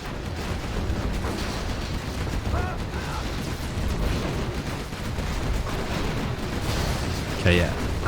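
Gatling cannon fire in a real-time strategy game between Nuke and China factions, gats shooting down Helix helicopters; a steady rumbling barrage of rapid shots with distant explosions underneath, fairly dense throughout.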